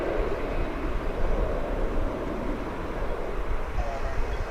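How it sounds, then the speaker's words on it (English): An American Airlines jet arriving from Abilene lands at DFW Airport before dawn, a steady broadband roar of engine and air noise holding level and fairly loud throughout, with no voices. "This is American Airlines Flight 3647 coming in from Abilene"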